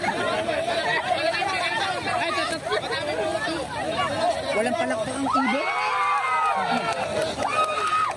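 Lively crowd at a Filipino group event, steady chatter and shouting with excited voices rising and falling throughout, a dense hubbub of many people close by with occasional louder yells.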